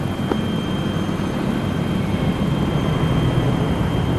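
Aircraft engine during landing at an airfield in a military video game, a steady loud whirring roar with a constant whine, heard up close for several seconds without talk.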